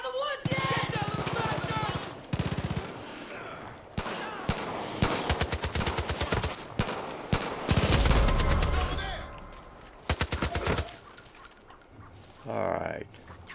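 Gunfire in the Far Cry 5 video game, with rapid automatic bursts and single loud shots in irregular clusters, close and punchy, mixed with speech.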